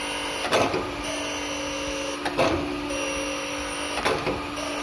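A surface grinding machine runs dry without coolant under a continuous steady mechanical hum, with three periodic bursts of grinding noise about every two seconds as the wheel passes over the workpiece.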